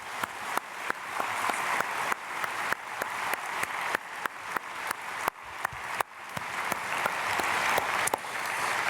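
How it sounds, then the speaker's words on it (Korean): Church congregation at a Myeongseong Church dawn prayer service applauding steadily, a dense wash of many hands with sharper individual claps standing out at a fairly regular rhythm, moderately loud throughout. "박수로 축복하겠습니다."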